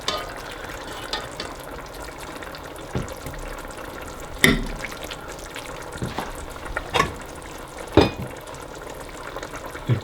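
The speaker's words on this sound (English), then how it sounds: "I'm gonna pour this juice off just into my roast." Juice from a roasted bear side, a rib roast with spine bone, is poured off into a roast, giving a soft, quiet liquid trickle with a few sharp clinks and knocks spread over the stretch.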